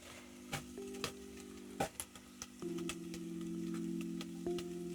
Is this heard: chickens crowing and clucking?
no